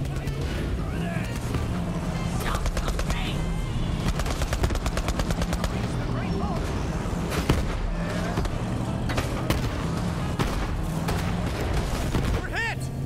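Turret gunfire in the Borderlands 3 video game, rapid bursts of repeated shots over vehicle engine rumble and game effects, loud and continuous, mixed under talking.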